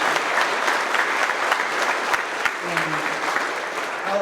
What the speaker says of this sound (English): a round of applause for the rest of the group